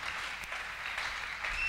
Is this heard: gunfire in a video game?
no